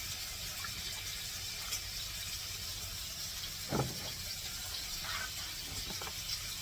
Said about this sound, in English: I'm going to add some milk to that.